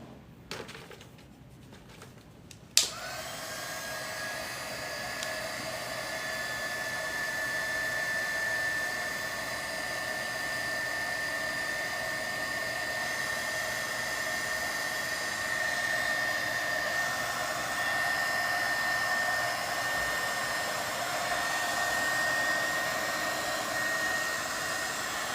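A small heat gun blows to set ink on a stenciled, stamped craft piece, switching on with a click after a quiet moment and then roaring in a steady, even whoosh with a thin whine for the rest of the time.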